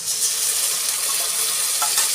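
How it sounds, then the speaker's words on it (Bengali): Spice paste frying with browned onions in a pan for chicken kosha, a steady close sizzle with soft stirring scrapes throughout and no talk. "এবার আমি যে মশলাটা গুছিয়ে রেখেছিলাম সেই মশলাটা আমি দিয়ে দিচ্ছি"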